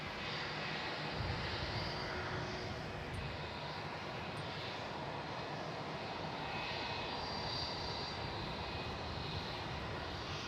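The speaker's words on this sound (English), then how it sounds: "The Jetstar rocking into the bay in front of us here." A Jetstar airliner taxies into its bay at Melbourne Airport, giving a steady, moderately distant engine whine and rumble that holds evenly throughout with no talk.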